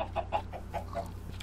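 Chickens in Minecraft clucking in a quick run of short, close clucks over a steady low game hum, with no talking.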